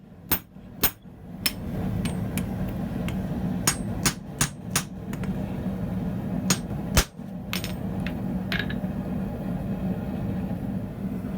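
Hammer blows on hot steel while forging a blacksmith's hammer, sharp metallic strikes coming irregularly in clusters, some close together, over a steady low roar like a forge fire or blower.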